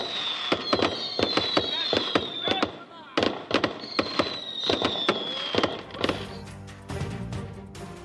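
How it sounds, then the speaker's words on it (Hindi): New Year fireworks display in Dubai: rapid sharp bangs and crackles in quick succession with whistling rockets rising, loud and continuous, ending in a dense crackling barrage. "दुबई में आतिशबाजी के शानदार मुजाहिरे किए गए।"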